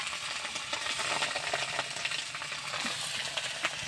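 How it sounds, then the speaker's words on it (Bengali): Pangas and tengra fish fry in hot oil, producing a dense, continuous crackling sizzle that stays loud and even throughout, heard close with no voices. "পাঙাশ ট্যাংরাগুলো তেলে দিচ্ছি।"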